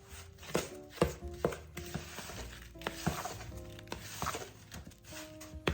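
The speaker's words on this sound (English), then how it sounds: "Just keep stirring" Snow ice cream mixture stirred in a bowl, giving irregular knocking and scraping strokes of a spoon against the bowl, close and distinct with short pauses between them.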